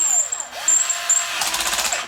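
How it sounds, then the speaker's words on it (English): A power driver ratchets rapidly at its torque setting while driving wheel screws on a TEMU LCG buggy, a quick mechanical clatter that builds in the second half after some lighter whirring. "So when it reaches the torque I want, it ratchets."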